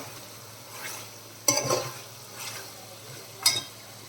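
Slit green chillies go into chicken cooking in a pan, with a soft steady sizzle and stirring, broken by two sharper clattering bursts of spatula against the pan.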